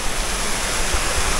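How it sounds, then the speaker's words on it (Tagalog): Kakawayan Falls in Infanta, Quezon, a natural mountain-fed waterfall, pours in a dense, steady roar that fills the brief moment evenly, with no voices over it. "ano itong falls na ito?"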